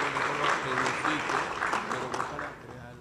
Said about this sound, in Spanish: Un aplauso a eso.